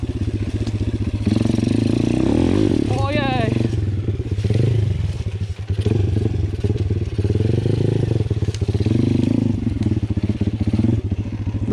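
A pit bike engine runs with uneven revving and sharp popping and crackling from the exhaust, loud and close, while someone talks over it.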